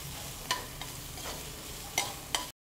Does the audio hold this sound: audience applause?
no